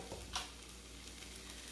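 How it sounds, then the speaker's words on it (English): Faint, steady sizzle of garlic and onions frying in a pan, with a brief stirring scrape near the start. "Here it's sizzling."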